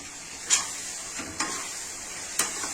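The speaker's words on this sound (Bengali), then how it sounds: "এবার কিন্তু বারবার করে নাড়তে হবে" A spoon stirring cashew, poppy seed and yogurt paste in a cooking pan, a faint steady sizzle broken by three soft scraping clinks spaced apart.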